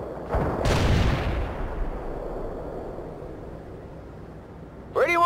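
A heavy explosion or artillery blast booms up close and rolls away into a long fading rumble, with a brief burst of sharper gunfire at the very end, from the video game World in Conflict: Soviet Assault.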